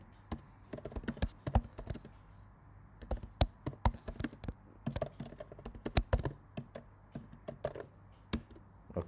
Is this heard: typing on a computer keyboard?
yes